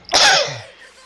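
A single loud, close sneeze bursts out over a voice call, a sharp breathy explosion followed by a short fading tail.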